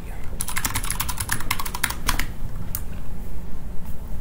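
A command is typed on a computer keyboard: a quick burst of close, crisp keystroke clicks, then a few sparser taps as the typing trails off.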